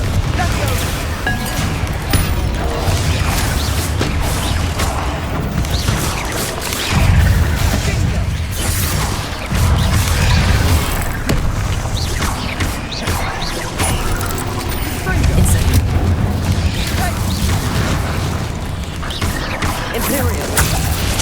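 Dense, loud stretch of magical spell blasts and explosions in the Hogwarts Legacy video game, a continuous barrage of crashes and booms with layered effects and no pauses.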